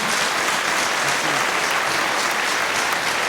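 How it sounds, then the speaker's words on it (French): Sustained audience applause at a French fishing conference on English and Bolognese float fishing, dense and steady for several seconds, loud and close with no voices over it. "on va vous demander d'applaudir Milo et James Robbins très fort"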